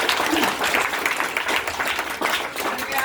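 A seated audience breaks into warm applause, dense steady clapping from many hands filling the room for a few seconds, loud and close.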